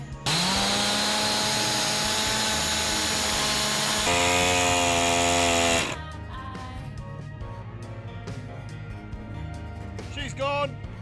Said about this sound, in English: This is the first time I have ever blown up a chainsaw.